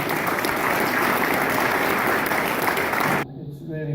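A roomful of people applauding for Christine, thick, loud clapping that runs steadily for about three seconds, then cuts off abruptly as a voice begins talking.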